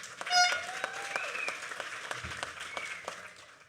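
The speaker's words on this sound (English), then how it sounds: "That's something to applaud." Soft, distant applause from the audience at a technical school graduation ceremony, a dense patter of clapping with a few brief voices that fades slightly toward the end.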